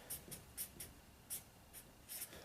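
A pen or marker writing on paper for a theatre puppet lesson, short soft scratchy strokes in irregular bursts, close and quiet, with no speech.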